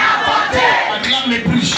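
Church congregation at a prayer service shouting and cheering loudly together, a dense, sustained roar of many voices filling the whole moment.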